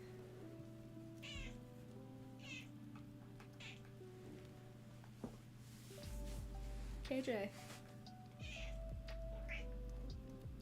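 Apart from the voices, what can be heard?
cat meowing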